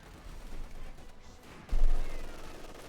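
MG42 machine gun fire in Company of Heroes 2 rattles through a busy battle soundscape, with a heavy burst swelling loudly partway through before fading.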